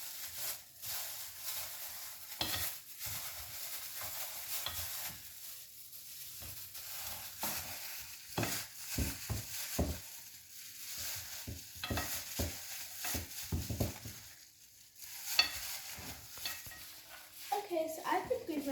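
Spare ribs being mixed by hand in marinade in a bowl, producing soft, wet squelching and slapping sounds in irregular bursts, quiet and close, with occasional light knocks against the bowl.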